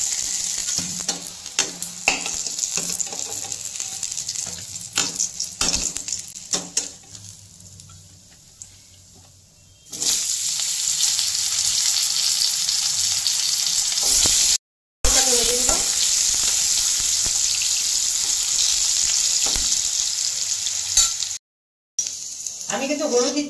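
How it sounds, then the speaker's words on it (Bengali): Eggplant sizzling and frying in a pan, stirred with occasional scraping and clinks; a quieter stretch of stirring gives way to loud, steady sizzling from about ten seconds on, broken by two brief dropouts. "বেগুনটা একটু ভেজে নেব।"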